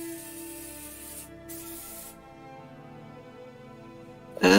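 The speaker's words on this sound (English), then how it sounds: "the sound of that spray" Spray hiss effect played during a tabletop role-playing campaign session, a steady sustained spray lasting a few seconds, briefly interrupted, then ending in a sharp loud burst.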